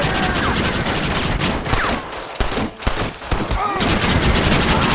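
Gunfire during the assault on Fort Mercer in Red Dead Redemption on Xbox, dense overlapping shots and rapid bursts rattling almost nonstop at close range, with a brief thinning midway.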